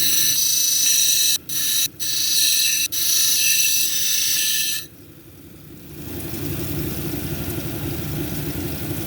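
Flint being ground on a cabochon grinding wheel: a steady, loud high whir for about five seconds with a few brief dips as the stone is lifted, then a lower rumbling machine drone takes over.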